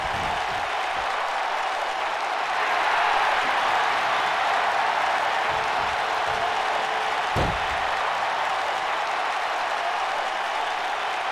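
Crowd at the Miami Arena wrestling show cheers and applauds steadily in a broad, roaring wash, with a brief sharp accent partway through and a single spoken word.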